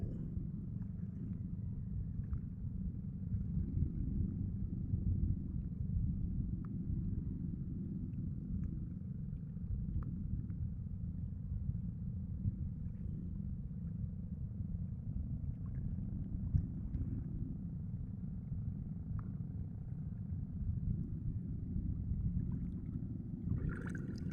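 A steady low engine rumble drones throughout, like a motorboat running nearby, constant and fairly loud with no talking.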